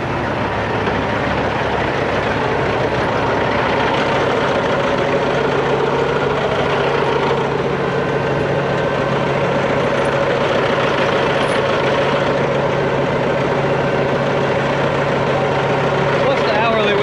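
A John Deere 7760 cotton harvester idles close by on a farm, a loud, continuous low diesel rumble with steady droning hum, holding unchanged for the whole stretch while a person talks intermittently over it.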